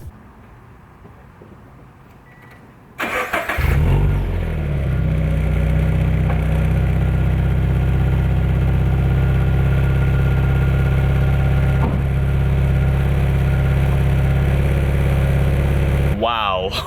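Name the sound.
car engine idling with Invidia N1 exhaust silencer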